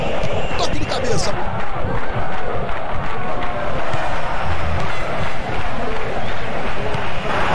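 Stadium crowd noise from the football video game Winning Eleven 10 on PS2, a steady loud roar of fans running throughout with swelling reactions, no talk over it.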